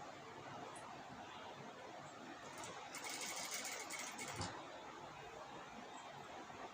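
Sewing machine stitching lace along a blouse neckline, a steady continuous whirr at low level that swells briefly louder in the middle, with no talking.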